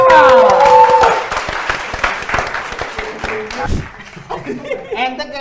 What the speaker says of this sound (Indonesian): Ente kayak lagi di ini taman bermain tepuk tangan doang.